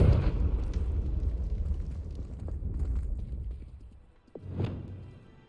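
A Confringo fire spell in Hogwarts Legacy bursts with a loud explosive rumble that trails off, followed by a second sharp blast near the end.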